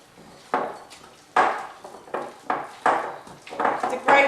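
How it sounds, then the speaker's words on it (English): A thick oat cake batter is stirred in a bowl with a spoon, giving about eight distinct scraping, knocking strokes in a loose, uneven rhythm, close and fairly loud with no speech. "So I'm just stirring this round now."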